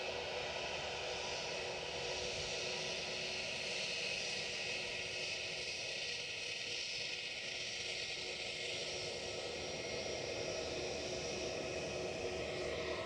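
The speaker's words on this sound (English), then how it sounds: "So British Airways are trundling past me" A British Airways airliner taxis past at Edinburgh Airport, its engines a steady, loud whine and roar that holds evenly throughout with no talking.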